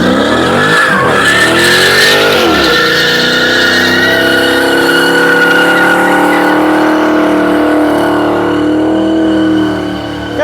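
A Dodge Charger at a car meet holds a long, loud burnout, its engine roaring at high revs over a continuous tire screech that sweeps in pitch early on before settling into a sustained howl.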